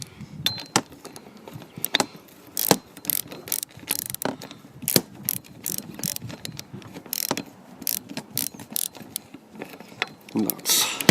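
A ratchet tightens a half nut on a shouldered pivot bolt of a Triumph hood frame, giving sharp, rapid clicking bursts in uneven runs, close and loud, with brief pauses between strokes.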